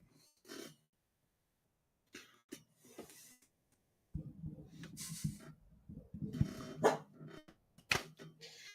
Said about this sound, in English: going to bark because he hears the thing outside